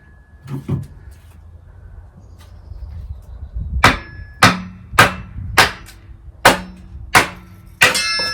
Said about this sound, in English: Split it down even finer like that.